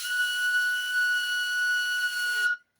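A flute gives its first steady tone, a single sustained breathy note held for about two and a half seconds before cutting off, faint and alone.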